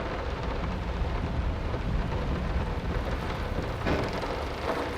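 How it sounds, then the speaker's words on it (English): Thunder and heavy rain in the horror game Layers of Fear remake, a dense, steady roar of rainfall with deep rumbling thunder rolling underneath, loud and close, with a brighter swell near the end and no talking. "The rain is so good."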